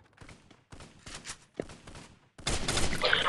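Gunfire in a team deathmatch shooter video game comes as a few separated bursts of shots, then a louder, denser volley at the end, with no talk heard.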